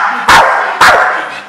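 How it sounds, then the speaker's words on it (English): A gym mascot dog in a boxing gym in Birstall, West Yorkshire, barks twice close up and loud, about half a second apart, over a constant background hiss. "That's the mascot dog of the training cave."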